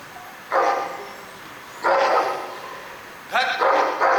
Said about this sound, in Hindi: कितना भौंकता है ये कुत्ता।